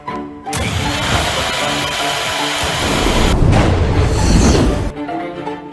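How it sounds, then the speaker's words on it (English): A small explosion effect for an anime-style skill in a video game: a loud, sustained rumbling burst that carries for about four seconds and swells near the end before cutting off. "I've also added a small explosion thing to add to the impact."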